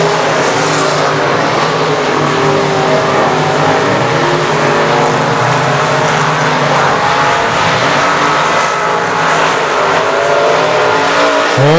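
Race cars circling I-37 Speedway in a dense, continuous roar of engines with layered revving and occasional tire squeal, loud and steady throughout with no talking.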